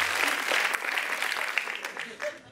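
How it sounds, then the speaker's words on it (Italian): Studio audience applause on an Italian television comedy show, a short burst of dense clapping that fades toward the end, with some voices underneath. "Facciamo un applauso a Marianna Folli, che faceva la conduttrice."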